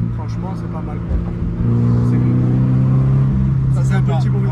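Toyota GT86 with a 200 hp naturally aspirated engine droning steadily while driving, a continuous in-cabin hum that rises slightly in pitch partway through, with faint speech over it.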